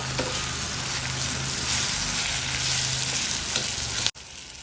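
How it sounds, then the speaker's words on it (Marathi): Ginger garlic paste and byadgi chillies fry in oil in a pan for dal tadka, a loud steady sizzle running throughout with occasional stirring before it cuts off near the end. "ते छान परतवून घेऊया।"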